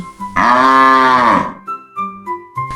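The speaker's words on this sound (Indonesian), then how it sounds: "Sapi." A cow gives one loud, close, drawn-out moo lasting about a second, followed by shorter, quieter lowing grunts.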